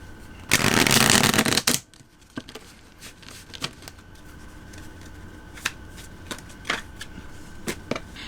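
Tarot cards riffled in a loud burst of shuffling up close, followed by softer scattered taps and card handling in a quiet room.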